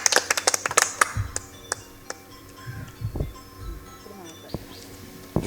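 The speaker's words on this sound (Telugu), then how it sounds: "ఓకే చప్పట్లు కొట్టండి." Scattered hand claps from a small audience at a free medical camp in an old age home, a quick flurry of sharp claps at first, then sparse isolated claps with faint voices in the background.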